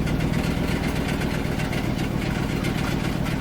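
A Chevy Suburban engine with a blown-out muffler and exhaust leak rumbles loud and close, a harsh, raspy, unbroken idle roar.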